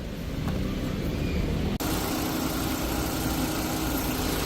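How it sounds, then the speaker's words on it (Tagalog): A 2025 Mitsubishi Xpander GLS engine idling with the hood open, a steady low hum and vibration heard up close, interrupted by a brief dropout partway through. "Ito guys yung engine ng ating Xpander GLS 2025"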